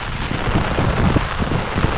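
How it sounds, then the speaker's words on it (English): Heavy Florida rain pours down in a dense, steady roar close by, continuous and loud with no voices. "It's raining so hard."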